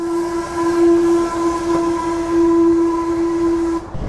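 The Darjeeling toy train's engine blows a long, steady, piercing whistle close by as it passes on the hill railway, holding for about four seconds before cutting off sharply, with no voices.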